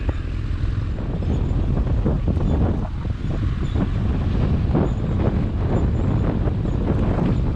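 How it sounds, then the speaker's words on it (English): Constant heavy wind buffets a helmet-mounted camera microphone on a BMW F800GT motorcycle ride, a loud rumbling roar with gusty thumps throughout and no voices. "It is very windy today."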